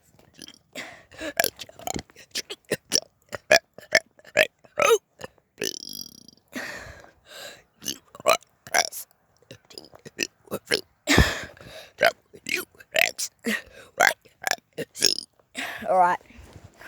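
A person burps the alphabet, producing a long string of short, loud belches one after another in fast succession with brief gaps between them, near and dominant throughout.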